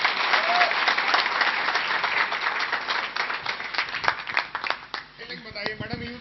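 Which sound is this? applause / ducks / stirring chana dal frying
applause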